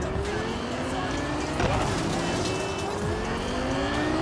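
Engine of the Caliburn car in the video game Cyberpunk 2077, a steady revving drone with rising and falling tones, fairly loud and continuous, like a car passing at speed.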